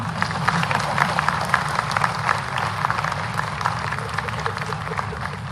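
A large crowd at a public health-fair inauguration in Bhopal claps continuously, with distinct individual hand claps over a broad crowd murmur, loud and sustained throughout.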